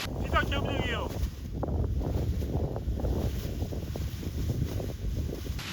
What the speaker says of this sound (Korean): 바람이 지금 일로 불잖아